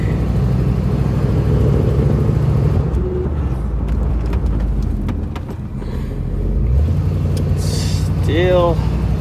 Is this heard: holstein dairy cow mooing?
no